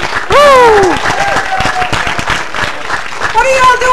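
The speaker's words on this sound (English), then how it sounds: "A round of applause for the Pflag Committee." At an outdoor Pride flag raising in St John's, Newfoundland, a crowd breaks into applause and cheering. A loud whoop opens it, then scattered clapping continues under voices and calls.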